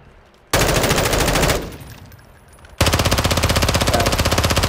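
Automatic gunfire in Modern Warfare 2, two long rapid bursts of closely spaced shots, loud and near, split by a short quieter gap.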